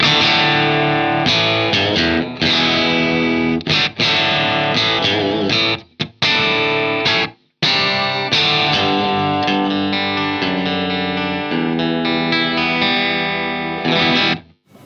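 An electric guitar plays through a real Blackstar EL34 valve amp head with all controls at 12 and a touch of reverb. Loud, distorted chords and riffs ring out with a few short breaks.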